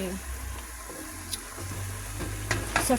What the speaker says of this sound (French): je fais dorer la tomate